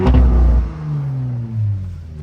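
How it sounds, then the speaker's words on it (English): A 2012 or 2013 Audi RS5 with a V8 lets out one loud, close exhaust rev that peaks at once, then settles into a deep, rumbling burble that dips and swells slightly as it fades. "Yeah, the notes on this exhaust are perfect."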